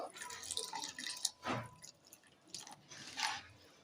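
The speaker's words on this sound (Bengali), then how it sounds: "এবার দেখো এর মধ্যে আমি আরেকটু জল দিয়ে দেবো" Water is poured into half-cooked rice in a pot for Basanti pulao, giving soft, faint drips and splashes in a few brief bursts over quiet background.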